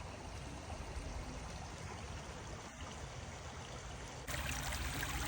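Water runs into a bucket while a sluice is being worked, a steady close splashing rush that grows slightly louder and brighter near the end, with no talking.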